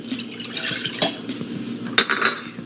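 Water poured into a cup while making a garlic pickle sauce, a soft continuous splash joined by two sharp clinks of dishes or utensils, close up with no talking.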